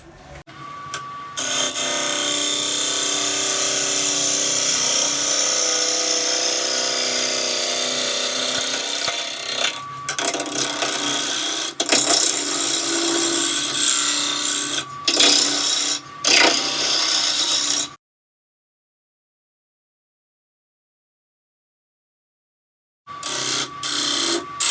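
A wood lathe roughs the outside of a chip and dip platter, giving a loud continuous cutting roar with brief breaks, then cutting off into a long silence before resuming.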